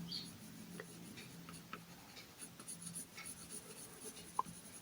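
A pencil lightly shading and blending on paper while drawing a face, producing a soft, continuous scratchy rubbing with faint strokes, quiet and close.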